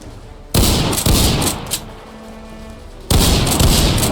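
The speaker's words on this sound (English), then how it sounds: "Here is a clip showing the fire rate of the Twin Blast." Twin Blast shotgun in Virus Border Roleplay firing loud, close blasts: two quick shots in rapid succession, a pause with a faint reload-like click, then another heavy blast, each with a booming tail.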